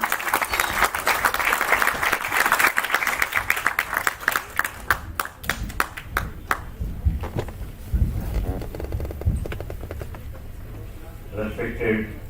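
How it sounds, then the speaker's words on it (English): Audience at a Jabalpur Engineering College student committee inauguration breaks into loud, dense clapping that gradually thins out and fades into scattered claps and room noise. "Please have a round of applause."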